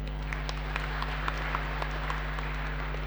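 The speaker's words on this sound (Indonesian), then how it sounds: "Tepuk tangan tuh anak-anak" A Catholic congregation at a Sunday Mass applauds newly installed altar servers. The clapping is steady and moderate, sitting over a constant low electrical hum.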